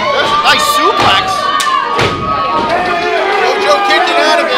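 A pro wrestler is slammed onto the ring canvas by a suplex at a live indie wrestling show, a heavy thud ringing out amid a noisy, cheering crowd and commentary.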